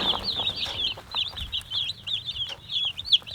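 Young chickens under a heat lamp cluck and peep in a steady, overlapping chorus of short, high chirps, close and continuous for a few seconds, with no talking.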